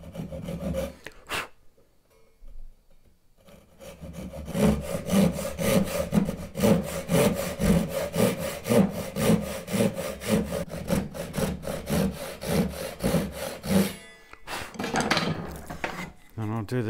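A hand saw cuts wood for a bridle joint in a hand-tools-only woodworking setup, making steady, rhythmic back-and-forth rasping strokes close by for more than ten seconds after a few quiet knocks.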